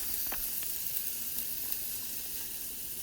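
A burger patty fries in a pan, giving a loud, constant sizzle with faint crackles and pops and no voices over it.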